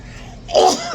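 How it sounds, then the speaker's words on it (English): A single person's sneeze, a short sharp burst rising after a quiet moment, close and fairly loud. "And I'm going to sneeze."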